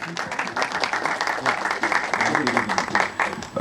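An audience applauds actress Disha at a Bollywood press event for Ek Villain Returns, with dense clapping and crowd noise running steadily throughout, and voices mixed in.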